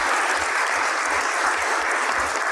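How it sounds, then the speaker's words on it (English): An audience at a Georgia governor's race event claps steadily, a dense crackle of many hands held at full loudness throughout, close and without pause. "everyone give them a round of applause"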